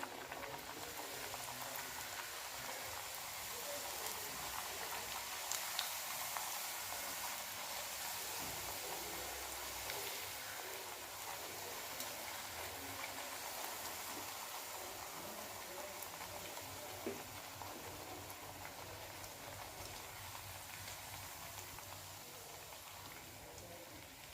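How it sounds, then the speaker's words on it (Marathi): Pumpkin puris deep-frying in hot oil over a medium-to-low flame, a steady soft sizzle and bubbling hiss that runs evenly and quietly throughout, with no voices heard. "तेल गरम होऊ द्यायचं गॅस मिडियम टू लो ठेवून तळून घ्यायचं"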